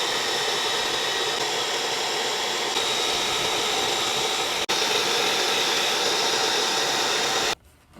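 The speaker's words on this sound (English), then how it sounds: "then we can go to the hair dryer, and that's exactly what I'm going to do right now." Steady, loud rushing whoosh of a hair dryer blowing on a freshly washed baseball card, running continuously for several seconds with a brief click before cutting off near the end.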